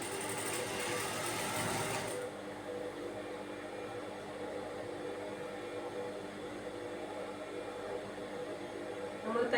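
A sewing machine stitches a princess-style nighty, running loud and steady for about two seconds, then continuing as a quieter, even whir with faint talk in the background.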